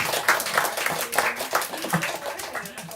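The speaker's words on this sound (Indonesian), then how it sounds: "Kita kasih tepuk tangan tepuk tangan." An audience at a design talk breaks into applause, a busy patter of many hands clapping close by that fades slightly toward the end.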